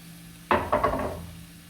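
Minced beef with mixed vegetables and tomato ketchup in a pan, a few quick bursts of sizzling and stirring scrapes that fade into a quiet background, no talk.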